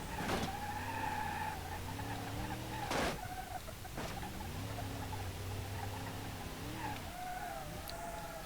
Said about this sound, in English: There's a suspension working overtime.